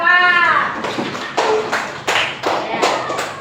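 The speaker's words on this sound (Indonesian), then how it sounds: "Tepuk tangan untuk Dava." Children and a teacher clapping together in an elementary school classroom, a series of loud rhythmic group claps in bursts, with a voice speaking at the start.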